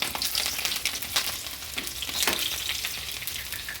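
Small shallots frying in hot coconut oil for a tuna-head curry, a soft continuous sizzle with a few brief stirring scrapes.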